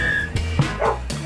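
Several dogs bark and yip at a dog shelter, a few short sharp barks close by over a steady background hum, with whimpering in between.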